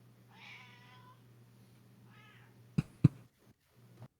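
A house cat meows twice, close and fairly soft, with a pause between calls, followed by a few sharp knocks and clicks nearby.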